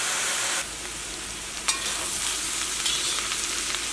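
Bitter gourd pieces frying in a generous amount of oil for pickle, a steady close sizzle with a few sharp clinks of a utensil stirring the pan.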